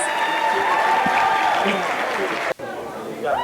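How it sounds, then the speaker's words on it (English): An audience at a middle school promotion ceremony applauds in a continuous crowd wash of clapping with faint chatter. The applause is cut by a brief dropout near the end, then carries on. "give them a big round of applause."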